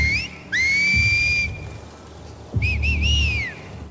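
Two rising whistled enemy patrol calls in The Last of Us, the first steady and held, the second wavering with a few quick trills, over soft background rain.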